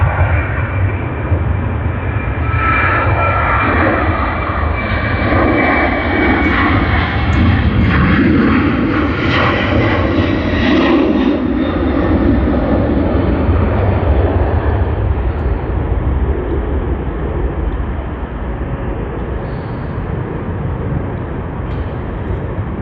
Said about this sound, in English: JQ510 Melbourne to Sydney on the A320